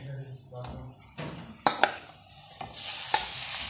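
Marinated minced meat tipped into browned onions and mixed in a hot pan, with intermittent scraping stirs and clinks that build into a brighter sizzle toward the end, close and moderately loud.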